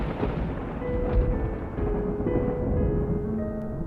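Stormy weather with a frightful wind sweeping over farmland, heard as a dense, continuous roar and rumble that swells and stays loud throughout, with deep thunder-like booming in the low end and no voices.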